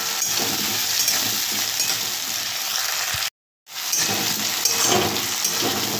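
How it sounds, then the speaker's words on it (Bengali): Green chillies and tomato fry for a tilapia fish curry, making a loud, dense sizzle of hot oil at close range. It runs continuously apart from a brief silent gap, and no one speaks. "কাঁচা লঙ্কা দিয়ে দেবো, আর টমেটো দিয়ে দেবো বন্ধুরা। এটা ভালো করে একটু ফ্রাই করে নেব।"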